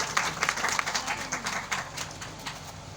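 A church congregation applauds, a moderately quiet patter of overlapping claps with some individually audible hands, fading somewhat toward the end.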